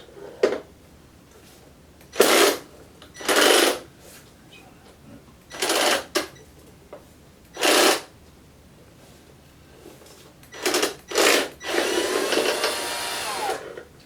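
A power drill drives extra-tight screws on a Panasonic RX-FW38 in several short whirring bursts with pauses between, ending in a longer, rougher run as it exceeds its torque setting, close by with no talking.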